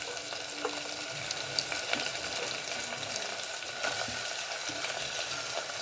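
Ginger garlic paste, onion and green chilli frying in a pan for beetroot rice, a continuous dense sizzle with occasional stirring scrapes and clinks, close and steady throughout, no talk.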